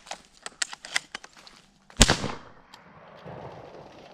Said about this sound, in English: I'm about to shoot it.